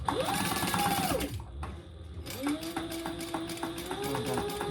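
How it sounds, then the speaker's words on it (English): A sewing machine runs in steady bursts while top stitching an eighth of an inch along the flap of a fabric wristlet, pausing briefly before the needle starts up again, its close mechanical whir carrying on alone. "we are going to top stitch 1/8 of an inch on the flap, on the piece D"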